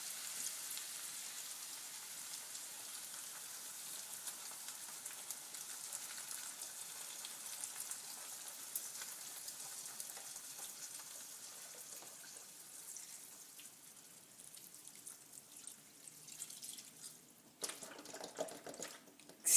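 Broth pours from a carton into a cooking pot in a kitchen, a soft continuous gurgling splash that runs steadily and stays faint and close, with no talking over it.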